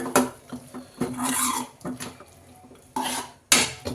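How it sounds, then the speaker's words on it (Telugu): Homemade street-style batani (dried pea) chaat is stirred in a pan off the heat, with a spoon scraping and clanking against the metal in repeated close, loud bursts and brief pauses. "ఇంకా స్టవ్ ఆఫ్ చేసుకొని మిక్స్ చేసుకుందాం."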